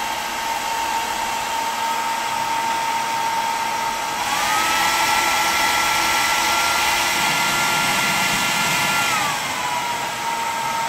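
A Xiaomi Soocare Soocas H3 ionic hair dryer blows with a loud, steady whooshing hum, its motor pitch stepping up midway as the setting changes and then dropping back.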